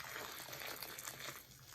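Liquid pours and trickles into a container, a soft continuous splashing stream, close and quiet.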